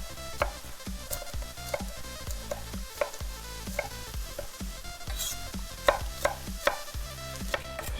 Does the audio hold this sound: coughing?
no